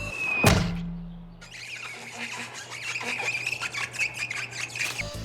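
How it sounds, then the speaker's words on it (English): A sharp squawk and thump ring out early as a cartoon pony, Rainbow Dash from My Little Pony: Friendship Is Magic, smacks into window glass, followed by a lingering hum and scattered bright chirps and clatter. "Rainbow Dash getting smacked on the glass on the window"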